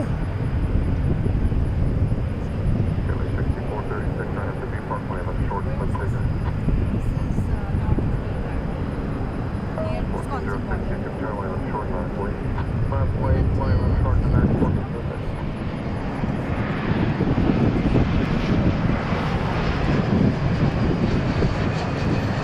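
Airliner in Medal of Honor special livery arriving from LAX at Dallas Fort Worth International Airport gives off a steady, heavy jet roar that stays loud and continuous throughout, swelling slightly near the end.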